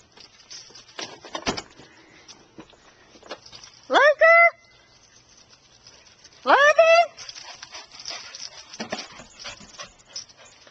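A dog eager to climb into a pickup truck for a ride gives two rising, drawn-out whines a few seconds apart, close by, amid rustling, panting and shuffling movement.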